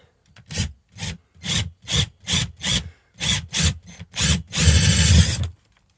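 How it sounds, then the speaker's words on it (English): A drill bores through a ceiling in short repeated bursts of about ten pulses, ending in one longer, louder grinding run. "now we're going to drill a little hole through the"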